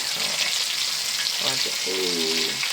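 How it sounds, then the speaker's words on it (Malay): Freshwater giant prawns frying in hot oil, a steady bright sizzle with a few pops and spits, close by with no talking. "Bagi dia mandi minyak. Dia meletup sikit lah sebab mungkin di bahagian kepala dia tu banyak"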